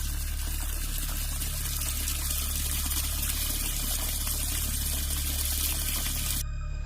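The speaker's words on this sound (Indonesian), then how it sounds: "keran wastafel itu nyala sendiri" A kitchen sink faucet runs in a steady, full stream, a constant rushing of water that cuts off abruptly just before the end.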